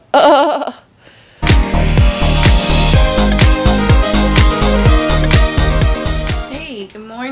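A voice imitates shaking legs after a morning workout with a brief warbling cry, followed by a loud rhythmic burst of juddering, stuttering tones that fade into a final wobbling vocal slide.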